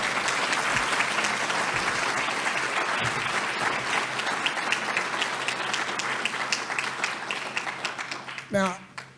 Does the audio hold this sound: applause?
yes